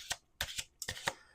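Oracle cards are shuffled close by in quick, quiet bursts, about six soft papery riffles in an uneven rhythm, with no talk.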